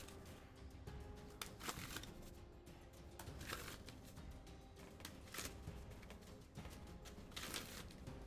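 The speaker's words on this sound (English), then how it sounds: "What am I shuffling? This is just my shuffling deck." A sleeved deck of Magic the Gathering cards being shuffled, soft repeated riffles and slides in a steady rhythm, close but quiet and alone.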